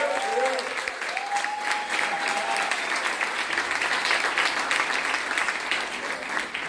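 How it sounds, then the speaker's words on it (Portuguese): A congregation applauds a group of young boys in a church, with steady clapping throughout, faint whistle-like tones near the start and some voices mixed in. "Eu queria pedir a salva de palmas para esses jovens, meninos."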